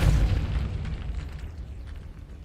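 The Depulso force spell cast in the Hogwarts Legacy video game, a deep booming burst that hits hard at the start and then fades into a long rumbling decay.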